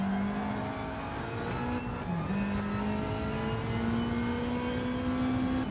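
A race car lapping a circuit in a racing video game, the engine droning steadily with its pitch climbing gradually through the gears.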